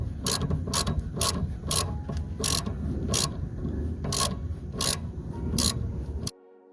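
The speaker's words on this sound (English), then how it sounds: "once you push the wrench back in the corner to lock it in with the spring, you can then" A ratchet wrench with a 13mm socket loosens a sway bar end link on a Ford Focus ST, giving close, loud repeated clicking strokes in a steady rhythm over a low rumble before stopping abruptly.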